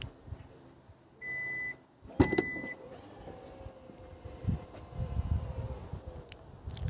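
A Kia Niro EV (2023 model year) power tailgate opens after the car key button is pressed and held, with a steady electronic warning beep followed by a clunk of the latch and a quiet motor hum as it rises.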